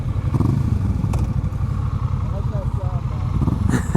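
A Honda Rebel 1100 motorcycle engine rumbles steadily at low speed with some mechanical clatter, while a voice talks over the noise.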